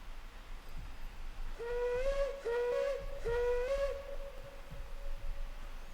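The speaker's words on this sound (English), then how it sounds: "Whistle doesn't scale with distance, does it?" Steam whistle of a 3 ft narrow gauge locomotive in a train simulator, sounding three short, steady blasts in quick succession at moderate loudness over a low background rumble.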